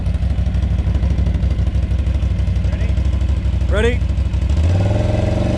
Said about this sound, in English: Rev it up to 3 grand for me.